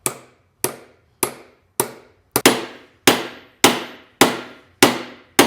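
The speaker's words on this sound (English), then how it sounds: "Seemed like I really wasn't going to get in all the way just by hammering it." Hammer blows drive a U-joint into a Jeep driveshaft yoke: ten sharp metallic strikes in a steady rhythm, roughly half a second apart, close and loud, growing heavier partway through, with no talking.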